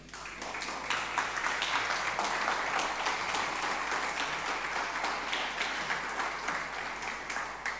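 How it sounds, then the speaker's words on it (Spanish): A church congregation applauds, a full, steady round of many hands clapping with individual claps audible in the mix, sustained evenly without speech over it. "Den un aplauso al Señor."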